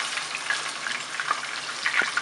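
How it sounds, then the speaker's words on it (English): Catfish pan frying in oil, a close, soft crackling sizzle with a few sharper pops and spits scattered through it, no talking. "we're gonna go ahead and fry the, like, kind of like pan fry the catfish"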